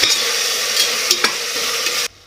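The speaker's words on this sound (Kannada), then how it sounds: "ಇವಾಗ ಈ ತರಕಾರಿ ಫ್ರೈ ಆಗ್ತಿದೆ ಅಲ್ವಾ" Vegetables with double beans and pink salt fry in a pan with a bright, crackling sizzle, broken by a few stirring scrapes, then cut off abruptly after about two seconds.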